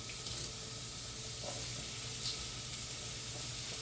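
Onions dropped into the same hot pan used for pork chops, sizzling with a steady, close, soft frying hiss that stays even and uninterrupted.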